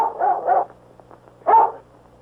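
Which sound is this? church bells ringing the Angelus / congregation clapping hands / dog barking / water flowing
dog barking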